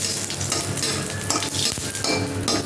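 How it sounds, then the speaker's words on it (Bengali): Small lentil dumplings (bori) frying lightly in a little oil in a pan, a steady close sizzle with scraping stirs and faint clinks of a utensil, and no talk. "ছোট একটা মতো বড়ি একটু হালকা করে ভেজে তুলে নেবো"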